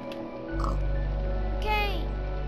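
Minecraft pig oinks over a steady low game hum, with a brief rising squeal-like sound midway; no talk, continuous background drone throughout.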